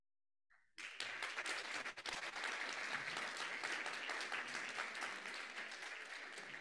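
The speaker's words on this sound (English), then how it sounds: "we want a big, big round of applause" Steady audience applause at a closing ceremony for an academic digital health conference, starting abruptly after a brief silence and holding dense and even for several seconds.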